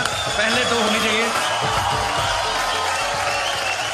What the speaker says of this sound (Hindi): आप सबके लिए जोरदार तालियां पहले तो होनी चाहिए।